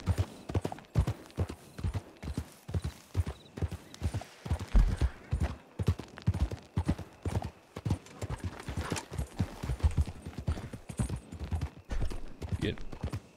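Horse hooves clip-clop in a steady galloping rhythm while riding in the Red Dead Online video game, loud and close, continuing throughout with a brief whinny-like sound mixed in.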